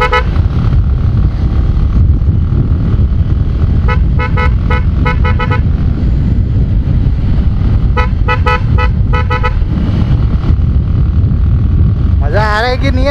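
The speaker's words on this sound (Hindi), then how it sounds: "यहाँ पे आप लोग अच्छे से सुन पाओगे अपने शेरा की हॉर्न की आवाज़" A dual-tone motorcycle horn honks in several bursts of rapid repeated toots over a steady loud engine hum, with a wavering warbling tone near the end, close and loud in a quiet area.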